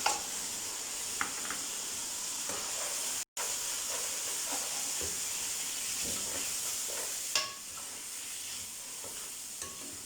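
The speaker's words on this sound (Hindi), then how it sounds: "गोश्त को हम उतनी देर भूनेंगे जितनी देर गोश्त का ये कलर अच्छी तरह चेंज नहीं हो जाता" Beef with ginger frying in a pot makes a continuous hissing sizzle with steam, broken by occasional stirring scrapes and one abrupt momentary cut.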